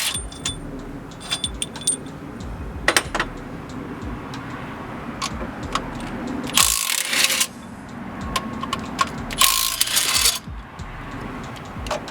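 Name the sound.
Milwaukee impact driver removing alternator bolts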